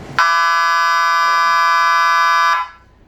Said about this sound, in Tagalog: pag naubos po yung shot clock, automatic po tutunog yung buzzer